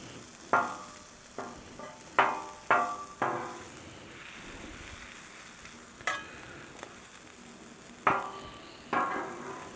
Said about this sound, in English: Let's stir up this sausage.